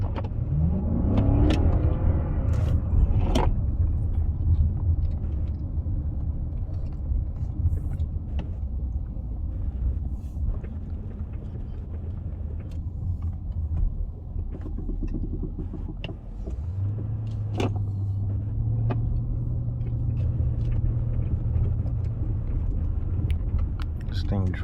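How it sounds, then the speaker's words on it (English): A 2013 Hyundai Equus Signature rolls slowly over road bumps, with low interior rumble, clunks and rattles from the cabin. Someone talks throughout. "You go over this bump really slow."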